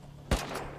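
A single sharp gunshot from a Rust video game firefight cracks out loudly and close, its short tail lingering over a steady low hum.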